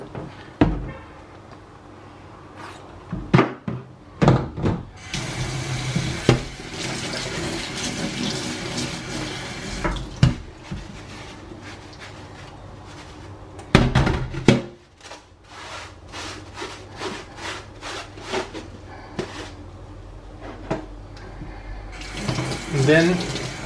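Tap water runs in bursts over a colander in a kitchen sink, splashing and rattling with clatters and knocks as the strainer is handled, steady rushing stretches broken by brief pauses, close and moderately loud.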